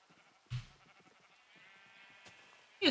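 Sheep in a Minecraft server bleat in two short, clear calls, one early and one at the very end, over a quiet background with faint game sounds between them.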